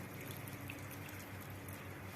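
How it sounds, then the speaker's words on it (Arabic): Water is poured over pasta in a baking dish for a chicken pasta tray bake, a soft continuous splashing trickle at low level with no voices. "هنحط ميه قد ايه يا دوبك بس تكون ايه المكرونه باينه، تغطي بس المكرونه كده"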